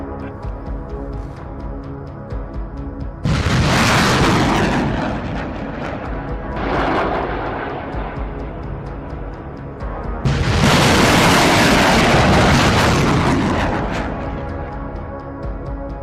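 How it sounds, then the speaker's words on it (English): Russian 2S5 Giatsint-S self-propelled 152mm artillery guns firing, with three loud, booming blasts, each followed by a long rumbling decay, heard over steady background noise. "the ministry released footage showing Russian self-propelled 152mm 2S-5 Gyatsin S artillery guns in action"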